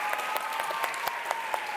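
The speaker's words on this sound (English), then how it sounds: "Let's give Lee Hobbs a great big clap." Applause from an audience for author-illustrator Leigh Hobbs at a Big Draw event, a fairly soft, quick patter of clapping with individual claps standing out, slightly distant and alone.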